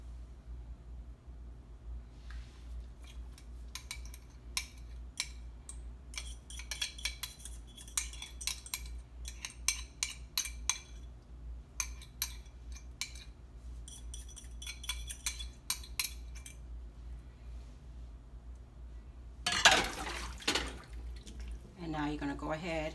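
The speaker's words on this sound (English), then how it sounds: "I will go ahead and add our delicious dressing" Dressing is poured and scraped from a utensil into a bowl of crab salad, producing a run of clicks, taps and wet drips that ends in a brief louder clatter.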